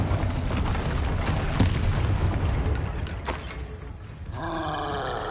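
A Confringo fire spell blasts in the Hogwarts Legacy video game, a loud booming burst amid dense, continuous combat noise with creaking mechanical layers, followed by a brighter tonal whoosh near the end.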